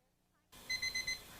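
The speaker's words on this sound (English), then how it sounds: "There's the timer on our pork." A kitchen timer goes off while pork cooks, sounding four short, evenly spaced high beeps after a moment of near silence, clear and fairly close.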